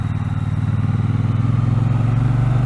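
A Triumph T120 Bonneville motorcycle leans through a corner with a loud, close, pulsing engine drone that thrums evenly and rises slightly in pitch throughout.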